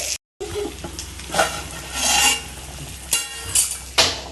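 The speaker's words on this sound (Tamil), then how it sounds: "சரி, மீனை நல்லா திருப்புங்க. அப்பதான் நல்லா வரும்." Pomfret fish fry in a hot pan with a steady close sizzle, while a spatula scrapes and turns the pieces in several bursts; a brief gap of silence comes near the start.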